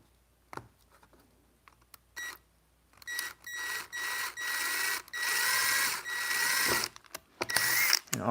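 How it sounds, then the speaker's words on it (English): A power drill boring small pilot holes into a Bass Tracker boat whirs in several bursts of rising length, close and loud, separated by short quiet gaps and a few clicks. "all I'm doing is just making little pilot holes"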